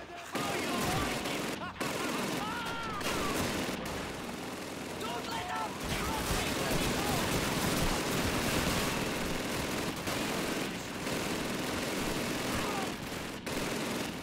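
Call of Duty 2 machine gun fire in a battle at Stalingrad rattles in long, loud, dense bursts with explosions and gunfire throughout, while a voice talks over the din.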